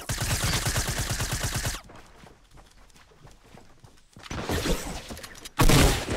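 Shotgun fire in the video game Fortnite, loud and close: a rapid string of blasts, a quieter stretch with scattered noise, then more shooting ending in one heavy, booming shot.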